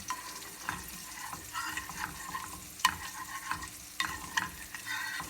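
Salmon and vegetables simmer slowly in a pan with a steady faint sizzle and bubbling. Small clicks and stirring taps break in now and then, all quiet and close, with no speech.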